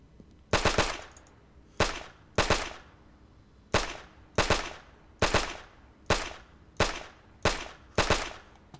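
Video-game full-auto gunfire empties a magazine in several sharp, loud bursts of rapid shots, separated by short pauses, with no talk.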